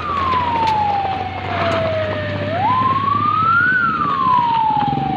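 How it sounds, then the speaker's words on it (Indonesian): An ambulance siren wails steadily through passing traffic, its tone sliding down, then rising and falling again as it moves by, loud and close over a constant road rumble. "Stop dulu bang, stop dulu, ada ambulan."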